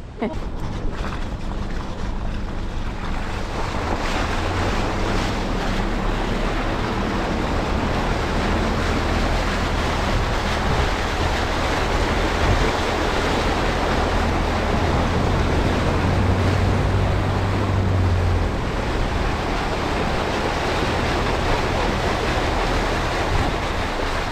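Surf rolls continuously onto Perlubie Beach at sunset in a dense, steady wash of sound, roughened by wind buffeting the microphone throughout.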